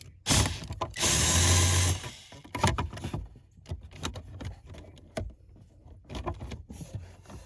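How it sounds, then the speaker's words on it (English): A power drill whirs loudly to back out a screw while an A/C fan resistor is being replaced on a Jeep Liberty, one long burst followed by short clicks and clatters of the screw and tools. "I'm going to throw it back onto my drill because it should be out far enough now"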